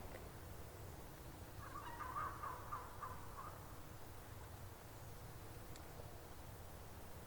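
A wild turkey gobbles once from across a wooded hollow, a faint, distant rattling burst lasting about a second over quiet outdoor background.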